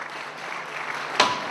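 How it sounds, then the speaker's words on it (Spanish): Steady applause from the audience at a livestock auction for a ranch's animals, sustained and even, with a short sharp whistle or shout rising out of it near the end. "fuerte el aplauso"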